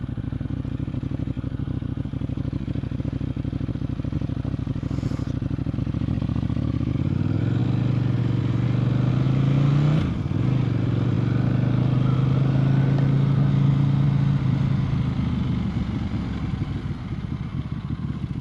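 A motorcycle engine idles nearby in a steady, low chugging drone that holds unbroken throughout, with no voices.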